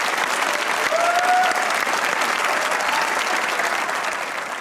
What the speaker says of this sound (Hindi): ताबिश हाशमी के लिए एक बार तालियां।